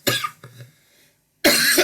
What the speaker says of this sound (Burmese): sorry ဆရာချောင်းဆိုးနေတော့